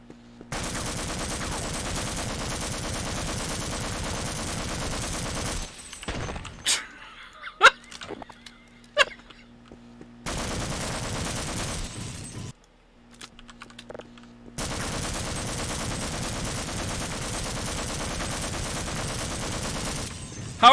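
Rapid assault-rifle bursts in Half-Life: Opposing Force come in long, loud sustained stretches separated by quieter gaps holding a few sharp isolated shots and brief voice.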